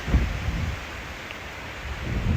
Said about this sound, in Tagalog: Grabing hangin to. Lakas.